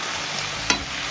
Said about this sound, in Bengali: তো নেড়ে দেবো